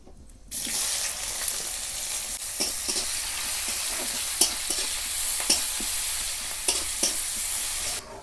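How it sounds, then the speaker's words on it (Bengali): Onions frying and sizzling in a pan of spice masala for chana masala, with a steady hiss and stirring scrapes; close and fairly loud, with no voices. "এই দেখুন মশলাটা কত সুন্দর ভাজা ভাজা হয়ে গেছে, এর মধ্যে আমি পেঁয়াজগুলো দিয়ে দেব"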